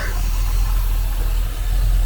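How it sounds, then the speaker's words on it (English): A Rover P6 V8 engine idling steadily with a low, even rumble and a soft stainless steel exhaust burble, no voices, constant throughout. "Idling lovely. You got that stainless steel burble."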